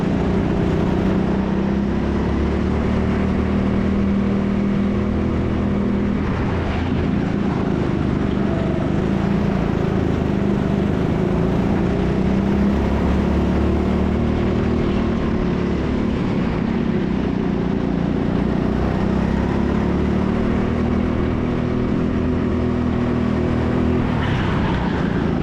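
Go-kart engines drone continuously on the final lap of an indoor TeamSport race, a steady buzzing roar with slight rises and falls in pitch, close and sustained with no talk.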